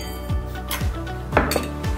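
A teaspoon clinks several times against a caipirinha glass and tinkles as sugar goes in, sharp metallic taps spaced out over a couple of seconds, close and clear with no talking.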